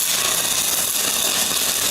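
Dual shield flux core welding on quarter-inch steel plates, with a loud, steady crackling hiss heard close up, continuous and with no talking.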